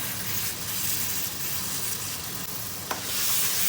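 Zucchini masala is stirred and fried in a pan, with a continuous close sizzle and hiss under a single sharp scrape near the end, and no voices.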